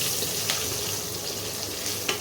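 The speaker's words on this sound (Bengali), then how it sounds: "ফোড়নে দিচ্ছি গোটা জিরে শুকনো লঙ্কা আর হিং" Whole cumin, dried chilli and asafoetida sizzle in hot oil as a tempering for an egg and cauliflower curry, a steady close crackling hiss with a couple of brief sharper pops, no talking.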